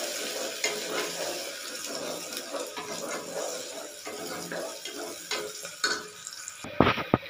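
Onions fry in a pan with a steady soft sizzle, punctuated by scraping and stirring clicks and a few louder clatters toward the end, with no talking.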